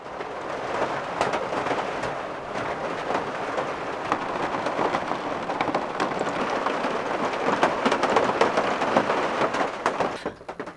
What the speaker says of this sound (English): I love the sound of the rain on the caravan roof.